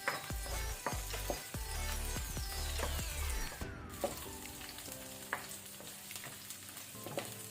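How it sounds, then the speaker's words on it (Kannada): Pepper fries in oil over a low flame for a lemongrass chicken dish, a bright steady sizzle broken by sharp spoon-on-pan knocks and a rising scrape as it is stirred. "ಸ್ವಲ್ಪ ಫ್ರೈ ಮಾಡುವ, ಒಂದು 30 ಸೆಕೆಂಡ್ಸ್."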